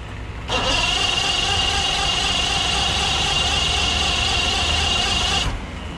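A restored boat engine catches and runs steadily, a loud continuous mechanical roar with a high whine that starts abruptly and holds for about five seconds before cutting off.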